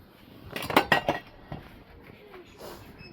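Glass dishes, bowls and spoons clinking in a mall shop, with a quick cluster of bright chinks followed by a few lighter taps, close, with faint voices nearby.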